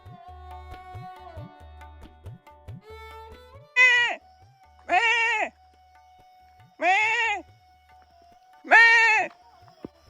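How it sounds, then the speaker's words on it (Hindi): A goat wandering around a home bleats four times in loud, separate cries spaced a second or two apart, over a quieter background with faint tones and knocks. "आंटी की बकरी इधर उधर घूमती रहती है"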